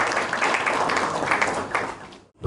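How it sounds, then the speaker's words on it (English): Audience at an investiture ceremony gives a short round of applause, a thick wash of clapping that fades near the end before a sudden cut. "Please a big round of applause."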